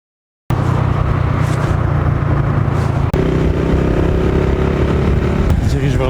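A motorcycle ridden through traffic in Pakistan, its mid-pitched engine droning steadily and loudly close by, with a brief dip before the engine note shifts and continues amid road noise.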